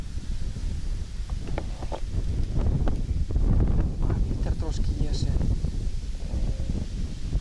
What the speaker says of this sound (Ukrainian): Зараз до шостої, я думаю, вітер трошки мав би стихнути.